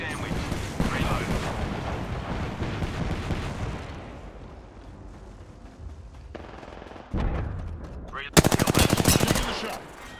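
Apex Legends gunfire erupts in dense automatic bursts and heavy shots, loud and close, easing to a calmer stretch before another fierce rapid-fire volley, with in-game voice lines mixed in.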